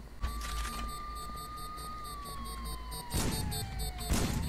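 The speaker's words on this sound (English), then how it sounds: "you just have to sit there with the sirens blazing" Police sirens wail in the video game Sneak Thief: a steady electronic tone that slowly bends downward, layered with pulsing siren patterns. It sounds loud and continuous throughout, with bursts of extra noise near the end.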